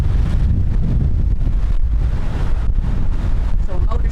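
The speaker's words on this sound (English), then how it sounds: "So we're motor sailing right now until we get around this point up here." A sailboat motor sailing in wind: a steady low engine rumble mixed with gusty wind buffeting and water wash, loud and continuous with no talking.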